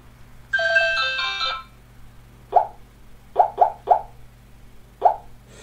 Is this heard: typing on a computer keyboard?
no